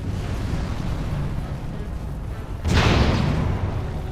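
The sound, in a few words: fireball trap explosions in the video game Dragon Age: Origins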